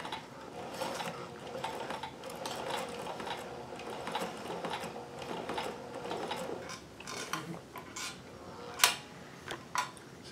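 A Singer sewing machine fitted with a 26538 embroidery attachment stitches slowly nearby, giving a soft, steady mechanical chatter of needle and gears that ends in a few sharper isolated clunks.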